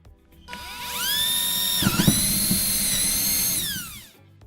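A high-pitched power drill with a depth stop whines steadily, briefly bogging down as it bites into material while a window and balcony fall-protection system is mounted, then spins back up before stopping.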